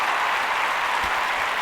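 Steady applause from a small crowd at an awards-style event, a dense even patter of clapping held at one level throughout, with no talking over it.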